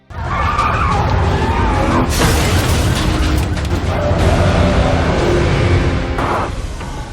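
Tires skid and engines roar in a loud car chase from an action film, with sustained screeching and rumbling, sharp bursts of noise in the middle and near the end, and a voice over part of it.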